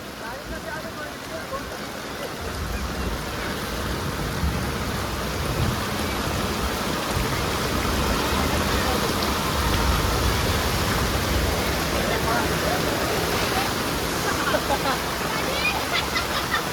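Heavy rain pours steadily over the flooded streets of Pasodara village, a dense, constant roar of water that continues without a break.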